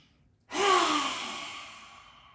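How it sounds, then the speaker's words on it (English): One forceful lion's breath exhale during a yoga flow, a loud, raspy, open-mouthed breath pushed out with the tongue out, swelling quickly and then tailing off with a faint voiced tone, preceded by a brief quiet inhale. "Hands in prayer for lion's breath."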